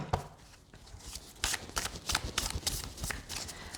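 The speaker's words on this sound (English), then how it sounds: "They're not bad for shuffling at all" Light antique anatomy tarot cards riffle-shuffled by hand, with repeated crisp bursts of flapping and clattering card edges coming close and fairly quiet after a soft start.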